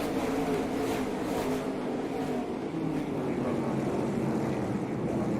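ARCA Menards Series race cars at speed on the Milwaukee oval, a dense, steady roar of engines that holds at a constant loud level without breaks.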